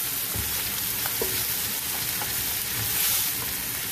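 Braised short ribs searing in a hot pan, rendering their fat with a loud, continuous close-up sizzle and faint crackles, with no talk.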